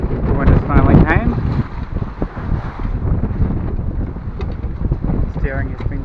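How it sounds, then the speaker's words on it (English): Wind blows hard around a sailboat under way, a continuous loud rush with buffeting on the microphone. A voice is heard briefly early on. "The wind has finally came."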